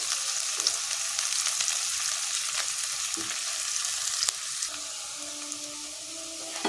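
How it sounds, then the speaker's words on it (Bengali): Onions fry in a pan for a pot-style mashed pointed gourd dish, giving a steady, close sizzle and hiss with a few light stirring scrapes and no talking. "পেঁয়াজটা একটু লাল লাল করে ভেজে নেব"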